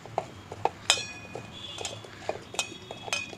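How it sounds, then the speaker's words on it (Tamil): Light clinks and scrapes of a spoon stirring onion bonda batter with spices in a bowl, with irregular small taps close by and no talk. "நெக்ஸ்ட்டு கிளறி விட்டுக்கலாம்"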